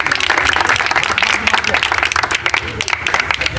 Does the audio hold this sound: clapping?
yes